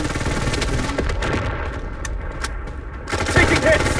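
SMG gunfire rattles in the mobile shooter Blood Strike, with dense automatic bursts and booming shots layered over game noise, loud and close, then pausing briefly before another burst.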